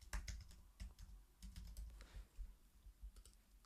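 Rapid typing on a computer keyboard, a steady run of close, crisp key clicks with uneven rhythm and no voices.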